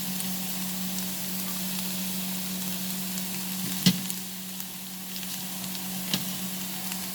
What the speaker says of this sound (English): Now in this oil is already hot. I will put the garlic.